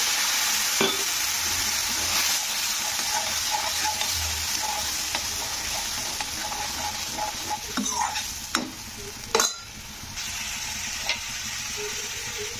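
Water poured into a pan of chili powder and ginger frying in oil for shukto, giving a steady close sizzle with scattered stirring scrapes and a sharp burst near the end, no voices.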